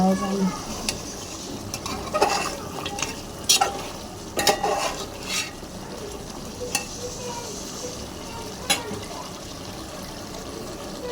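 Potatoes frying in oil for aloo bhaji give a steady soft sizzle, broken by sharp clinks and scrapes of stirring utensils against the pan at irregular intervals.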